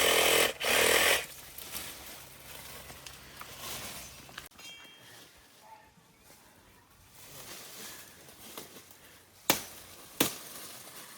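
Dull machete chopping in Honduras, a few loud, sharp blade strikes standing out among quieter rustling and outdoor background noise.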